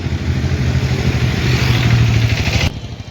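A red Hero Super Splendor BS4 motorcycle in good condition idles and revs close by, a steady throbbing engine note that rises in the middle and then cuts off abruptly near the end.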